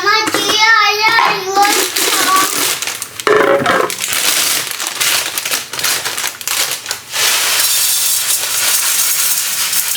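Vermicelli fries in ghee in a home kitchen, a close, crackling sizzle with stirring and rustling throughout, and a voice briefly audible at the start.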